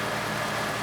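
A Honda CR-V engine idling with a power-loss fault and an idle-speed trouble code (P0507), giving a steady, even rumble with no revving and no voices.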